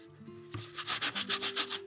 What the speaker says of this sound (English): because I'm not sanding that hard, it's not taking that much of it off